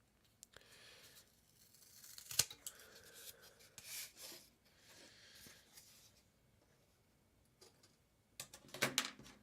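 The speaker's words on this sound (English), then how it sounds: "So I'm going to use the scissors to trim this down." Scissors snipping and trimming a piece of cardboard for a homemade laptop mount, quiet scattered cuts and rustling with a few sharper snaps near the start and end.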